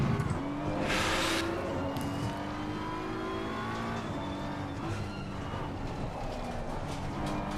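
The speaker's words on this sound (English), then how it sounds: "Can you hear the car a little bit, but not too loud" A race car engine in a VR sim racing game at Zandvoort holds a steady, fairly quiet tone that rises and shifts through gear changes.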